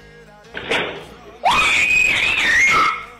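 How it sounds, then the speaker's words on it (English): A woman lets out a long, loud, high-pitched scream that rises and wavers, preceded by a brief shorter shriek. "Did that woman just scream a rat to death?"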